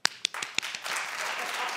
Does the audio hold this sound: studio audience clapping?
yes